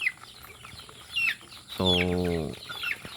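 Chickens and young pullets cluck and chatter on a farm, with one loud, harmonic call rising close by amid softer, scattered clucks and a brief spoken word.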